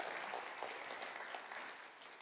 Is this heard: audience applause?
yes